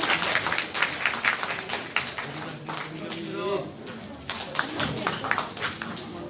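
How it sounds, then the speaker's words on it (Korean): Audience applause at a regional citizens' meeting, a sustained burst of clapping from a room of people lasting several seconds with brief pauses, heard close and fairly loud. "박수 좀 부탁드리겠습니다."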